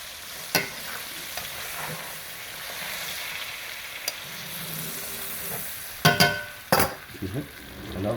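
A cast-iron seared rib eye steak sizzling on a grill grate, a soft steady frying hiss broken by sharp metallic clinks and scrapes of utensils, close and fairly quiet.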